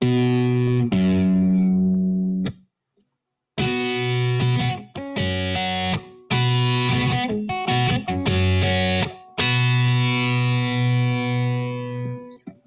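A Kite Guitar plays sustained chords through a distortion-like effect, with a descending bass line moving under the upper notes in separate phrases broken by short pauses, close and clear.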